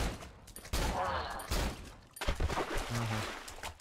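Gunfire in the horror video game Cry of Fear, a few loud shots separated by short pauses, alone without talk.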